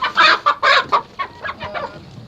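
Rooster, kept as breeding stock on a chicken farm, giving a series of close clucking calls, two strong bursts followed by softer, quicker clucks, with no talk.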